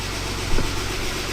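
A BMW E36 engine idles with a steady low rumble close by, a brief bump in level partway through, and no voices.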